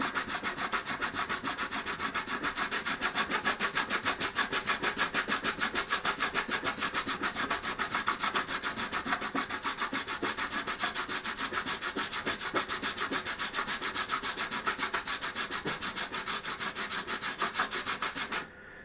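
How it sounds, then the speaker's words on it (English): Base of a hand plane being sanded flat on an abrasive sheet, a continuous fast rhythmic rasping scrub, close and steady for nearly twenty seconds. "you can now see it's showing up now where I'm sanding off the high points"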